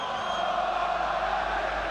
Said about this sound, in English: We weren't sure if the crowd was going to be loud, but they are.